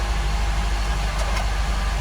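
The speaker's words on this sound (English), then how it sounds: "It is idling a little bit rough." Car with 165,000 miles and check engine light on, engine idling a little rough: a steady low rumble throughout, close and continuous with no talk.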